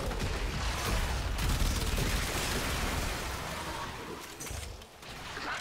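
Continuous rapid gunfire from the Carry Prime in the video game Warframe forms a dense, sustained fusillade that runs almost unbroken throughout.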